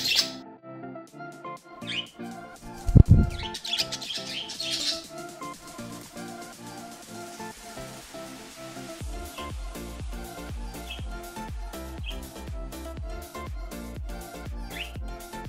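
Small birds chirp and tweet in scattered bursts, with a louder squawk early on, over a steady background hum.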